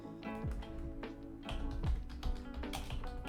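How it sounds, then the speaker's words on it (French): Rapid computer keyboard typing with irregular bursts of close clicks and taps, fairly loud and continuous with no talking over it. "Désolé pour les bruits de clavier."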